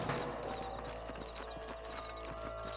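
Horse hooves clip-clop in the Western video game Red Dead Redemption, a quiet, steady run of hoofbeats over a constant low background rumble, with no voices.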